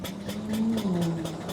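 A 140-year-old car's engine chugs in rapid, evenly spaced pulses while racing, its steady putter wavering in pitch as it stumbles and cuts out a little, close and moderately loud.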